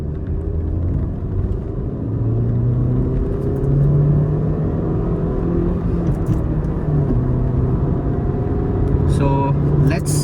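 A Toyota Corolla Altis car launches hard on a road, its engine note climbing steadily under a constant loud rumble for several seconds, with a brief shift in pitch near the end.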